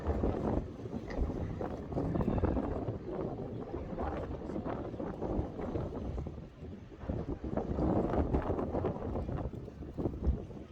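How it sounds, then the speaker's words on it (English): Fierce, steady wind roars against the microphone at Blackpool on a blustery day, a continuous broadband buffeting that swells and eases in gusts, with a faint boat or water rumble beneath it and no talking. "It's a fierce wind here today."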